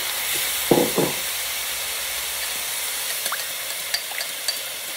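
Marinated pork for bao buns tossed back into a hot pan: a soft thud and brief burst of sizzle near the start, then a steady frying hiss with scattered small pops and crackles, close and with no talking.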